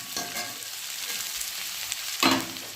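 Onion and ginger fry in a pan with a moderate, steady sizzle. A few scraping stirs come through, with a louder clatter near the end.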